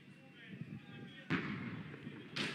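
A tank cannon fires at a target during a tank biathlon competition, two sudden booming blasts heard from a distance over a steady background rumble.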